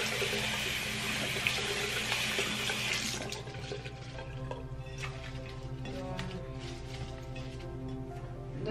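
Tap water runs steadily from a faucet while plant leaves are rinsed under it, a close hissing flow that softens after a few seconds into lighter splashing and dripping.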